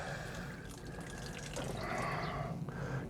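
Water trickles and splashes softly while watering plant pots, a gentle pouring sound that swells briefly near the end, quiet and close.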